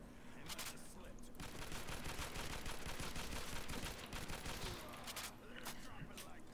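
Desert Eagle pistol fire in Call of Duty: World at War custom zombies, dense rapid shots cracking in quick succession over a noisy game mix, with a short pause before more shots.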